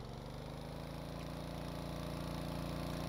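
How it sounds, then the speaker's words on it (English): A small vehicle's engine in the Stormworks video game revs high in first gear, a steady, loud mechanical drone with even harmonic layers running throughout and no talk. "as you can hear, the engine revs quite high in first gear"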